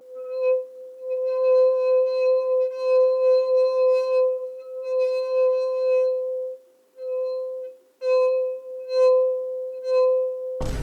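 A wet finger circling the rim of a glass draws out a pure, sustained singing tone, fairly loud and close, wavering slightly with a few short breaks as the finger keeps moving.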